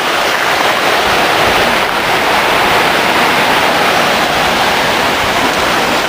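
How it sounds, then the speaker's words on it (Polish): A mountain stream in Kościeliska Valley in the Tatra Mountains rushes steadily, a loud, dense, unbroken wash of flowing water close by with no voices. "Chciałbym mieć taki potok obok domu"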